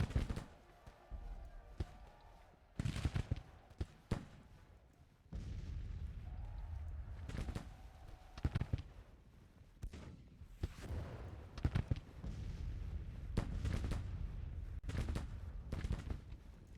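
Battlefield gunfire and artillery from the Civil War strategy game Grand Tactician: The Civil War. Scattered booming cannon blasts and sharp volleys are heard at irregular intervals over a low rumbling background, with a faint voice now and then.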